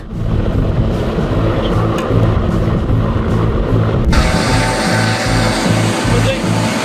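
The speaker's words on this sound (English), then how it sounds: "The takeoff of a Mi-24 from a forward support position is a complex maneuver" A Mi-24 helicopter lifts off from a forward support position with a loud, continuous engine and rotor roar that turns harsher and brighter partway through.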